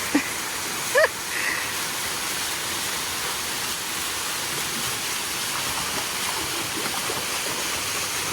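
A waterfall in Sivridağ National Park near Antalya pours steadily, a broad continuous rushing hiss filling the scene, with a few brief voices or calls near the start.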